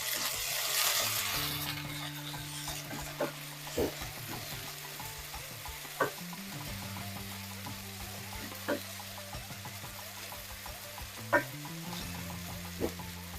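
Potato pieces roasting in a pan for a South Indian poriyal side dish, a steady close sizzle and fry with occasional sharp clicks of stirring or scraping, no talking.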